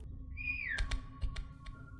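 A single rising-then-falling whistle sounds in the co-op horror video game Inside the Backrooms, clear and moderately loud, followed by a few soft thuds like footsteps against a low background rumble.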